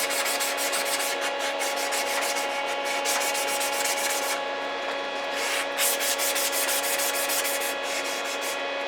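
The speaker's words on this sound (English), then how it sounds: "I'm going to sand the parkerizing off." Sandpaper of 220 grit rubs the parkerized finish off a FAL rifle gas block in a steady run of back-and-forth strokes, close and continuous with no talk.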